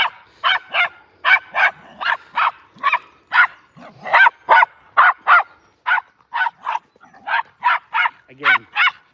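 Several dogs playing roughly together on a walk, trading rapid, loud barks and yips in a near-continuous volley with a brief growl near the end.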